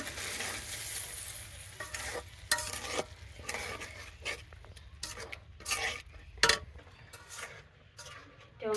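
Spice paste with ground coconut being stirred and sautéed in a pan for a rohu fish curry: irregular scraping strokes of a spatula over a low sizzle, fairly quiet and close.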